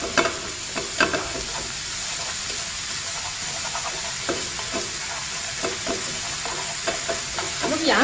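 Tangpyeongchae ingredients being stir-fried in a pan over moderate heat, a steady close sizzle with scraping stir strokes and utensil clicks throughout, no talking.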